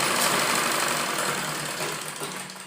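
An electric sewing machine running a double line of stitching on a kurti gives a steady, close mechanical whir that slowly fades toward the end, with no voice over it.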